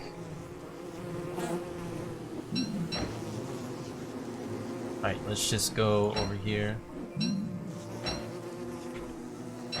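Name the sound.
bees buzzing in the video game Don't Starve Together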